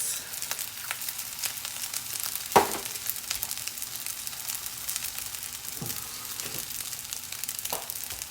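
Two eggs fry in a pan in the middle of rice for fried rice, a steady soft sizzle with a few sharp clicks and scrapes, no voices.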